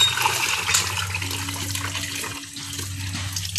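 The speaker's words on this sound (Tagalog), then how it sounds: "sawa ka lang buhos ng buhos ng tubig" Water splashes and pours steadily and repeatedly at a poso, a hand-pump well, during an outdoor bath; a continuous near, fairly loud rush with no voices.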